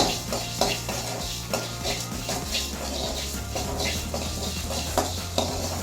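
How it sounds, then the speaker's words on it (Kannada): Fenugreek and cumin seeds frying in a pan, a soft steady sizzle under repeated scraping and stirring clinks of a spoon against the pan, close and fairly quiet. "ಕಾಲು ಚಮಚದಷ್ಟು ಮೆಂತ್ಯ ಹಾಕ್ತೀನಿ ಒಂದು ಚಮಚದಷ್ಟು ಜೀರಿಗೆ ಹಾಕ್ತೀನಿ ಚೆನ್ನಾಗಿ ಹುರ್ಕೊಂಬಿಡೋಣ"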